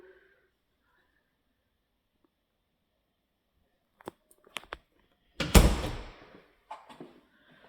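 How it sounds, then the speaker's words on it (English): A sliding glass door on a house opening onto a patio, heard as a few small clicks and knocks followed by a rumbling slide and a thud, then a softer rattle, after several seconds of near silence. "So a sliding glass door."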